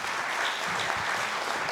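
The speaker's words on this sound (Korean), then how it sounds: "두 분께 다시 한번 큰 박수 부탁드리겠습니다." Brief burst of audience applause for two performers at a Korean independence activist award ceremony, dense even clapping from a crowd, loud and sustained.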